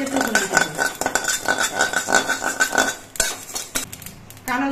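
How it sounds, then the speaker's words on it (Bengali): A spoonful of nigella seeds dry-frying in a pan, heard as rhythmic scraping and clinking of a utensil against the pan with light rustling, close up, ending in a few scattered knocks. "এবার 1 চামচ কালো জিরে ভেজে নিচ্ছি"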